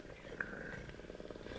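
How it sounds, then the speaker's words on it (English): Cats purring as a radio drama sound effect, a soft continuous rumbling pulse that runs steadily under a quiet spoken voice. "No, they were purring to each other."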